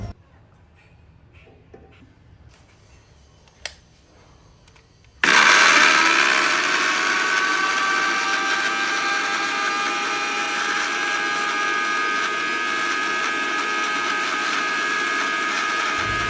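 A blender jar grinds boiled ingredients into a spicy momo chutney paste, starting abruptly after a few quiet seconds with soft clicks, then a loud, sustained motor whir that stays steady to the end.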